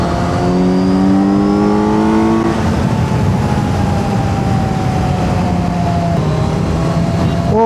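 A Kawasaki Z900 motorcycle engine revs loud and close on an early-morning road ride, its pitch climbing then settling into a steady drone with another rise and fall near the end, no talk over it.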